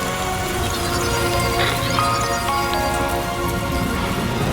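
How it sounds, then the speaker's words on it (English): Steady rain in the Death Stranding 2 video game, a dense, even patter falling on surfaces throughout with no voices, holding a constant level across the moment. "Rainy."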